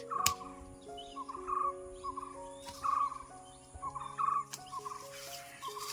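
Birds call repeatedly in a forest, short chattering bursts every second or so against a quiet background, moderately close.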